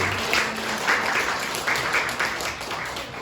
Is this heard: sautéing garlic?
no